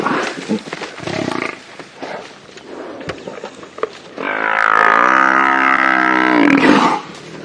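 Lions growl and roar at close range during a buffalo kill, with rough rumbling snarls giving way to a long, loud sustained roar near the end.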